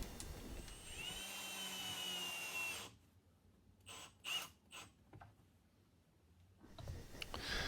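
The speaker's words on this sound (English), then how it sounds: "we'll get it screwed together" A power drill drives screws into a pine bench: a few seconds of continuous whirring, then several short trigger bursts separated by quiet.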